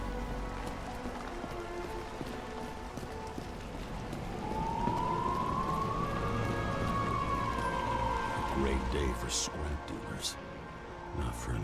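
A police car siren in the video game Nobody Wants to Die rises and falls in a single slow wail midway through, heard over a steady bed of rain-like noise and game ambience.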